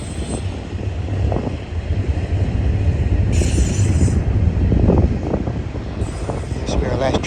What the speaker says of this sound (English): This will be our last train for the day.